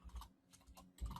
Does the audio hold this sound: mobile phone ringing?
no